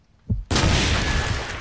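A grenade explodes in Call of Duty 4 on the Overgrown map: a soft thud, then a sudden, loud, close blast that stays full and roaring with crackling, rumbling debris to the end, with no talking.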